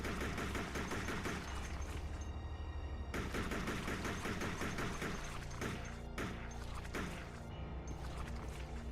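Rapid gunfire from the video game Resident Evil Code Veronica X, with loud, dense bursts of shots that repeat almost continuously and a few brief gaps between volleys.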